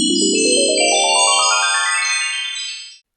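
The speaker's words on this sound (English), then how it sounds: "Charlie was roughly pulled out of his sleep by the grating alarm on his phone" A phone alarm rings as a bright rising melodic ringtone, loud and close, its notes climbing in steps before cutting off abruptly at the end.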